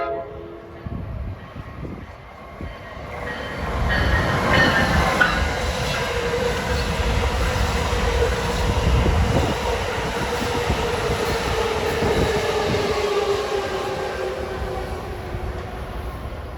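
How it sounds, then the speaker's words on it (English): An Amtrak Trenton-bound train passes close by in New Jersey, slowing for its stop at Elizabeth station: a loud, sustained rumble of wheels and cars with a tonal horn-like ring, swelling after a few seconds and holding steady before easing slightly. "Trenton-bound train at 12:43. He's slowing down for his next stop at Elizabeth."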